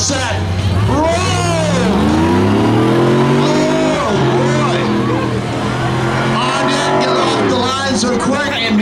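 GMC pickup trucks launch side by side in a spectator drag race at Beech Ridge, engines roaring up through the gears with loud rising revs and tire noise, while an announcer talks over the racket.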